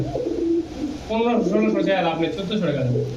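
Pigeons for sale coo in low, rolling calls close by, partly under people talking.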